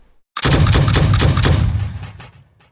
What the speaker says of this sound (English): this shoots actual projectiles and it can shoot I mean grenades, flashbangs, or tear gas. I have it set to tear gas right now.